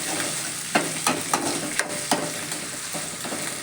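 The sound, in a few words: lightly frying in oil for mushroom biryani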